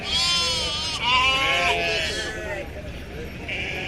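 A sheep bleats loudly and close by in long, wavering calls at the Pebbair sheep market, with people talking in the background.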